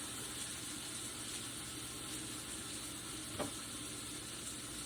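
Chicken stir fry sizzles steadily in a hot pan, a constant frying hiss with a brief clink partway through.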